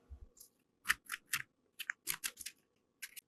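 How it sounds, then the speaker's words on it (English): A tomato being sliced with a knife in a home kitchen: a series of crisp, separate cuts and taps on a board in an uneven rhythm, close and clear, with short silences between them. "And I'm going to slice up my tomato."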